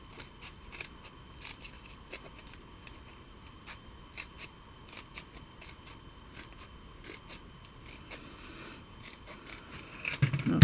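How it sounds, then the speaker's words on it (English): Scissors snip through paper along a drawn line in a rapid, even series of small crisp cuts, close and fairly quiet, with a louder rustle of handling at the end. "you just want to cut this on your line"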